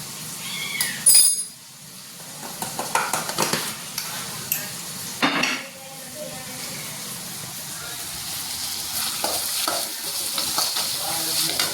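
Salted ridge gourd cooks in a pan for chutney, a steady hiss of frying under irregular stirring clatter, with a louder burst of sizzle early and a calmer simmering fry through the end, close by.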